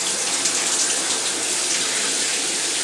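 Shower water running steadily while a pet bird is bathed under it, a loud, close, continuous spray hiss with no pauses and no voices.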